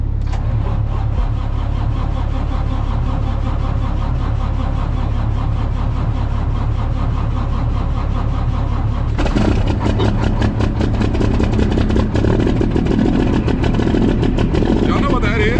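A truck engine cranks with a steady, loud, rapid churning, then catches and runs with a rougher, choppier idle near the end, up close with no talk over it.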